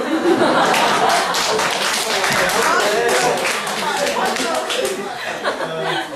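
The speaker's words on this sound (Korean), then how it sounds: "자, 박수." A group of players at a party game claps loudly and briskly for several seconds, the hands rattling close by while chuckles and laughter mix in.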